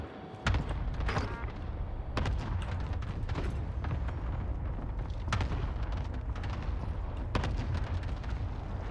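Cluster strike explosions in Call of Duty Warzone: a continuous rumble of distant blasts with several sharp booms punctuating it, steady and loud throughout.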